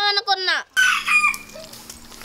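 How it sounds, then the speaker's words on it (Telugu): A fighting cock gives one loud, close crow with a rising and falling call, then the sound breaks into rougher clucking and farmyard noise that fades toward the end. "పందెం కోడి అన్న ఇది"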